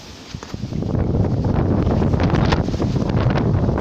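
Strong, roaring storm wind buffets the microphone in continuous heavy gusts, loud and close, with flapping and rattling mixed in; rain is falling.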